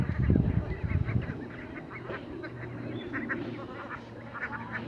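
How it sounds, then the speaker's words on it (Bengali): A flock of about 1500 Khaki Campbell ducks on the Baral river quacks in a dense, overlapping chorus, loud and close at first and then continuing as busy, rapid calls. "ক্যাম্বেল জাতের হাঁস।"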